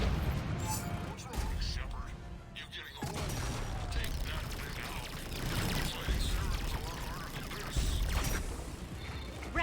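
Weapon fire with cryo ammo in the Mass Effect 3 video game, repeated bursts of shots mixed with mechanical game effects and music, with people talking over much of it.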